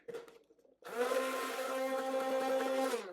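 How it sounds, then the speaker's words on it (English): An immersion blender runs steadily through melted butter mayo in a container, a loud continuous motorized whir with a rising pitch after a brief quieter start, no voices. "Immersion blender."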